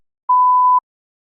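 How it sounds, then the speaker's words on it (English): A single clean electronic beep, a steady mid-pitched tone about half a second long, sounds alone in silence. "You may begin to prepare your response after the beep."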